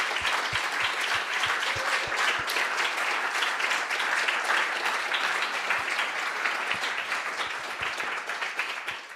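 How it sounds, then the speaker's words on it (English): An audience at an interdisciplinary salon performance event applauds the performers, a dense, steady round of clapping from many hands that continues throughout and tapers slightly at the end. "please, everybody give a big round of applause to all the performers here and online"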